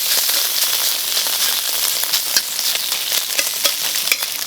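Pork collar stir-fries in a hot wok with a loud, continuous sizzle, crackling spatters and stirring scrapes running throughout, close up and with no voices.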